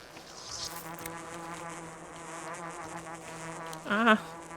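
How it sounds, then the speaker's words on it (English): Insects buzzing in the video game Pathologic 2, a continuous droning hum that holds steady and close throughout, with a brief louder vocal exclamation rising near the end. "Ah, stop buzzing!"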